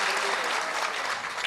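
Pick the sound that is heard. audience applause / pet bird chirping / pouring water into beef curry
audience applause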